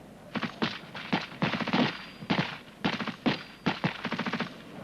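Bursts of rifle and machine gun fire on an army training range, sharp repeated cracks in rapid strings and short volleys, loud and close with brief gaps between.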